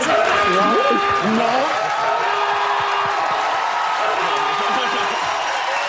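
Studio audience applause on a Quebec comedy show, a dense steady wash of clapping with scattered whoops, while voices talk over it throughout.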